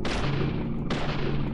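Gunfire in the video game Deadly Premonition: two loud, booming shots about a second apart, each decaying quickly with a dense, full-range blast.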